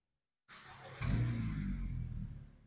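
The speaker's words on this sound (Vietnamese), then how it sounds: "Nổ máy xe này lên mở cái đèn cái bố" A black 1.8-litre car from 2018 starts after a brief silence, cranks, then settles into a close, steady idle that fades slightly toward the end.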